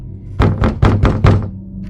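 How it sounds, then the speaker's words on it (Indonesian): Four loud, evenly spaced knocks on a door ring out inside the horror video game Who Am I, each a sharp thump in a steady rhythm, with no voices over them. "Kayak ada yang ketok-ketok pintu."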